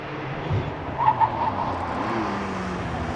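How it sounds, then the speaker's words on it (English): A Porsche 911 GTS pulling away at the Prescott hillclimb during practice, its engine note rising and swelling at a moderate distance before settling into a sustained drone. "as David Meek gets away in the 911 GTS."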